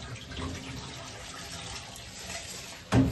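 Onions washed under a running kitchen tap, a steady close hiss of flowing water ending in a short louder splash.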